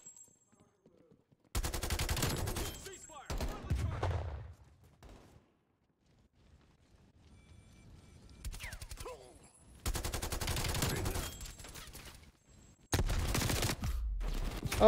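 Automatic gunfire from Call of Duty: Black Ops Cold War on Xbox Series X, loud sustained bursts separated by quieter gaps, with someone talking faintly in the lulls.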